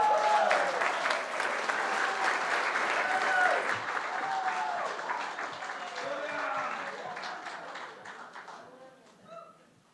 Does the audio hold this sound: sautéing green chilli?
no